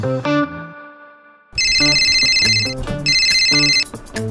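A telephone rings with an electronic, distorted ringtone in two long repeating bursts, loud and close, after a brief musical lead-in and a short pause.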